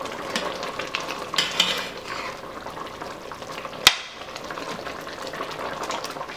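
Plantains simmer in a pot on low heat with a soft, steady bubbling and occasional stirring, broken by one sharp clink of a utensil against the pot.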